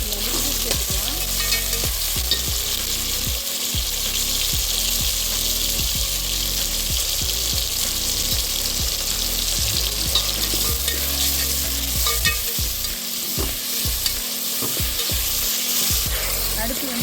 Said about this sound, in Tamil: வெங்காயம் பச்சை மிளகா கருவேப்பிலை அப்படின்னு போட்டோம் நல்லா நல்லா இன்னும் வதக்குறதுக்கு வந்து